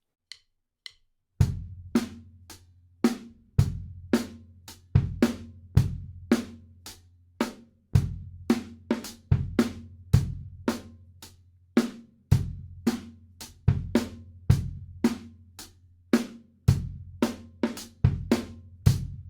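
After a couple of light clicks, a drum kit kicks into a steady groove of deep kicks and sharp snare hits, repeating evenly and loudly throughout.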